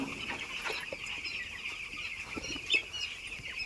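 Poultry birds in an open broiler shed cluck and murmur at a low level, a constant chorus of soft calls with a few brief louder clucks scattered through.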